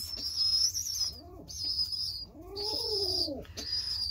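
A pigeon in a loft softly cooing to its chicks in several drawn-out, wavering coos, while high, thin peeps repeat throughout, close and fairly quiet with no talk.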